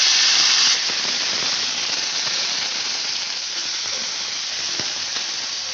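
Onion paste hitting hot oil in a wok during cooking of rui fish kosha, a loud close steady sizzle and hiss that spikes at the start then settles into continuous frying, with no voices.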